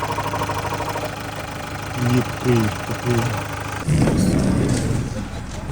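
A Renault Master 3 diesel van engine runs steadily at idle with a low rumbling drone, while someone talks briefly over it.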